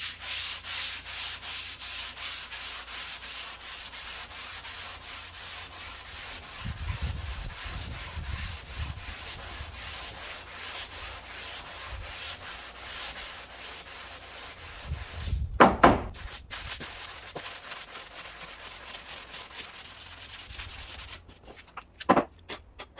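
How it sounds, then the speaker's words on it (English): A long sanding block is worked by hand over a dry guide coat in steady back-and-forth rasping strokes, close and loud, with a few brief pauses and changes of stroke near the end. "sand with this. This is the long block."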